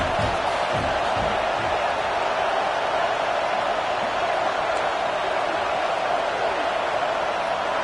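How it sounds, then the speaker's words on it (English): A large stadium crowd at an American football game roaring as a continuous distant wash of noise, with a commentator's voice running over it. "This crowd bringing the energy and noise early"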